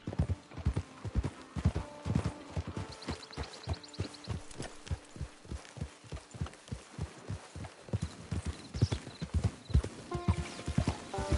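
Horse hooves clip-clop steadily in Red Dead Redemption 2, a close, even walking rhythm of hoofbeats that runs the whole stretch, with a faint whinny and scattered game sounds in the background.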